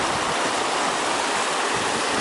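Water pouring down over rocks from the hills at Umtru dam in Meghalaya, a dense, constant rushing roar, close and loud for the whole stretch, with no voices.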